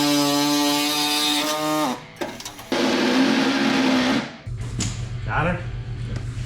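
A power drill with a dull bit whines steadily as it bores through the metal of a classic 1955 Chevy, then stops, restarts at a strained pitch and cuts out, before a lower motor hum takes over.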